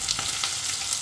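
Onions frying in a hot mustard seed and cumin tempering for egg curry, a bright, steady sizzle with small crackling pops, close and continuous with no talking.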